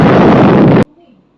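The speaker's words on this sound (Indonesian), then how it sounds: "Bom dijatuhkan, peluru ditembakkan." A loud, dense explosion sound effect with a continuous roar of blasts and bursts of gunfire, sustained for under a second before cutting off abruptly into near silence.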